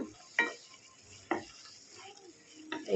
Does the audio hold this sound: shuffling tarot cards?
no